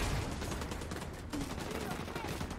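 Gunfire in The Division 2, a dense spread of shots and bursts running continuously under a busy game soundscape, moderately loud throughout with no clear gaps.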